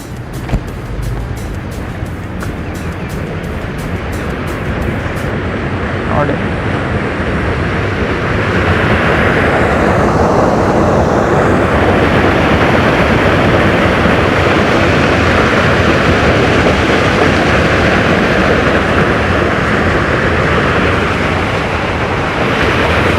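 Rushing water at a hidden spot near Davanagere reached by steps, a loud, steady broadband roar that swells after the first few seconds and fills the whole stretch without pause.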